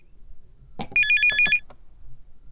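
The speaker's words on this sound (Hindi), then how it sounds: "कितनी देर से फोन बज रहा है?" A telephone in a Hindi-dubbed action film rings with a warbling electronic trill, several rapid pulses lasting about half a second, clear and close amid faint room sound and a brief clatter.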